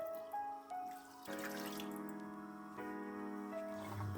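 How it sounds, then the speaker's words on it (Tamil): 200 ml of milk poured into a pan of carrot halwa, a steady liquid stream over a background of sustained musical tones, with no talking. "அப்புறமா 200 ml பால் கலக்கிறேன்."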